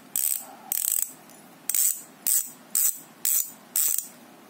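Weapon Fever sealed bearing bicycle hubs freewheel in seven loud, close bursts of rapid ratcheting clicks, each about a third of a second long and evenly spaced, heard alone without speech.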